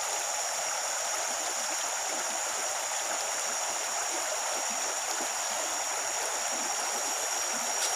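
Swift river current rushing over rocks in a Kalimantan river, a steady, dense roar of flowing water that holds constant throughout with no voices.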